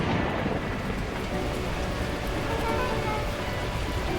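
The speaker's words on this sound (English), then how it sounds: "At that moment, the heavens opened up, unleashing torrential rain." Heavy torrential rain pours steadily in the video game Beacon Pines, a dense continuous wash of noise that keeps an even loudness throughout.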